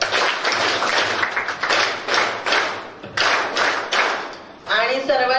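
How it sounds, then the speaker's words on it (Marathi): An audience at a Buddhist vihara event for Dhammachakra Pravartan Day claps in thanks in several loud, rhythmic bursts of many hands, separated by short pauses, with a voice speaking at the end. "3 वेळा टाळ्या वाजून आपण त्यांचे आभार व्यक्त करू"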